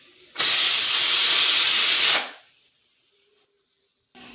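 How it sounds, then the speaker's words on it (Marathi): A pressure cooker, used for boiling wild forest tubers, releases steam in a loud, close hiss lasting about two seconds, which cuts off abruptly and is followed by near silence and a brief return of faint hiss. "मला हवा काढून घेऊया सगळी कुकरची."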